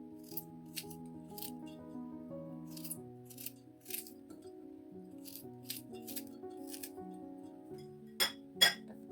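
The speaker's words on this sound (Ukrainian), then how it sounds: "Поріжу чесник на пластинки." A knife slices garlic cloves into thin slices on a board, giving crisp, irregular taps and clicks, faint and close, over soft background music.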